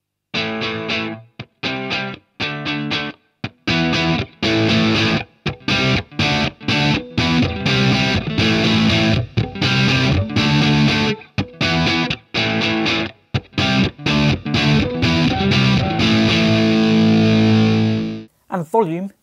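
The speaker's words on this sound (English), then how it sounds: "a gain knob controls how much your guitar signal is overdriven, becoming more and more saturated and distorted the more you turn it up" Electric guitar played through an amp with the gain turned up, giving a heavily overdriven, saturated tone in choppy chords and riffs that stop and start with short gaps, loud and upfront.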